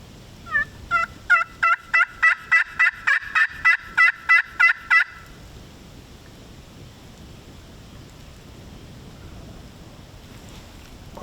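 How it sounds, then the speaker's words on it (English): A wild turkey gobbles outdoors, a rapid run of about a dozen loud, evenly spaced rattling calls lasting several seconds, then quiet ambient background with no voices. "we know there's another turkey out here gobbling, or was gobbling"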